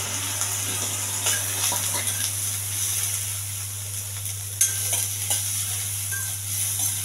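Curry leaves, green chillies, cumin and onions frying in a pan for a chickpea tempering, a steady broadband sizzle with occasional stirring scrapes and a low constant hum underneath, no talking.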